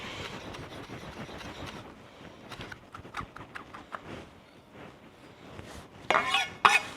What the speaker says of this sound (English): So I'm gonna mince up this sprig of rosemary and include it with our mushrooms.